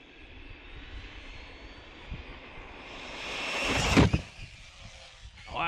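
An ARRMA Vorteks RC car runs at full speed off a ramp. Its motor whines and rises to a loud peak at launch, then drops away as it flies, with a clatter as it lands near the end.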